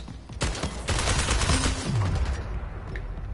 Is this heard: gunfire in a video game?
yes